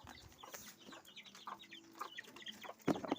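Young chicks of a fighting-rooster breed peep and cheep in short, repeated high chirps, fairly faint, with a louder cluck near the end on a hot afternoon.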